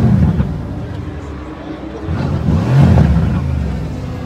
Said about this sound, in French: Je laisse imaginer les gars la sensation d'un bruit d'AMG